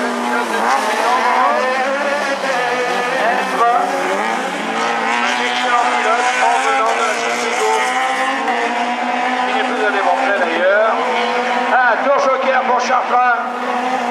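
A Super 1600 rallycross race car slides through a turn during a 2015 heat at Essay, its engine roaring loud and continuous while a commentator talks over it throughout.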